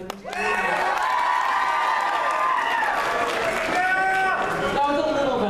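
Children cheering and shouting at a school elective day, a loud continuous crowd of young voices with some clapping, close and sustained throughout.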